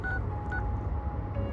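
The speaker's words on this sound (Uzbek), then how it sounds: "Shu raqamni yozib telefon qilib ko'ramiz." Touch-tone dialing of a telephone number: a quick series of short DTMF beeps at close range over a steady low background hum, with no talking.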